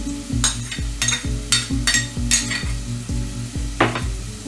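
Garlic cloves, fennel seeds and chili flakes sizzle as they fry in oil, a steady bright crackle broken by repeated rhythmic scrapes of a utensil stirring the pan, close and fairly loud.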